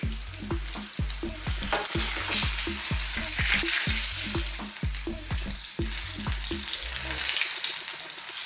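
A cod fillet pan-frying in hot oil gives a dense, continuous crackling sizzle with rapid regular spatters and a few knocks, close and loud throughout, dropping to a quieter hiss near the end, with no talking.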